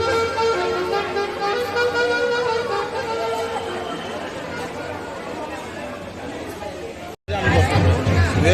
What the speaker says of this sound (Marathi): मुख दर्शनाला पण बघा किती गर्दी आहे